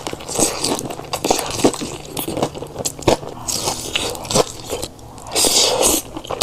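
Close, loud crunching bites and chewing of a crispy hot-honey chicken sandwich eaten with spicy cheesy Buldak ramen, with repeated crackly crunches and wet chewing in a steady stream and no talking.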